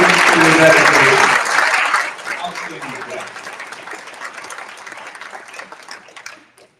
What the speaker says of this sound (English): Let's give all of our 20-year recipients a nice round of applause.